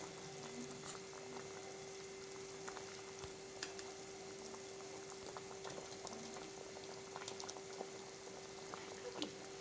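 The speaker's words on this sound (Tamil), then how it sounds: "குழம்பு நல்லா கொதிச்சிருச்சு பாருங்கள்" Tamil kuzhambu curry with soya balls bubbling in a pot, a faint, steady simmer with soft pops and gurgles throughout, no talking, and a constant low electrical hum beneath.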